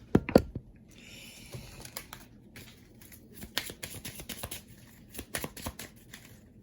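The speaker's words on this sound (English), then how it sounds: "I need to do a shuffle" Playing cards for the Western Legends board game are shuffled and handled at a table in a series of quick, crisp riffles and flicks, fairly close and quiet, with no talking over them.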